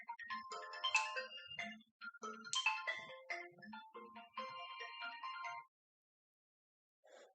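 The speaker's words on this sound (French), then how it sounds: "il y a le téléphone qui sonne" A telephone ringtone playing a melodic electronic tune in bursts, quite faint and alone in a quiet room, three phrases then stopping, with a brief faint sound near the end.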